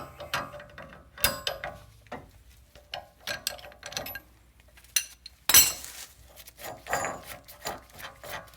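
Metallic clinks and a sharp ratchety clank while a tight nut is loosened on the rear wheel bearing of a BMW 335ix E90; scattered tool taps and scrapes, one loud burst of rattling midway, no talking.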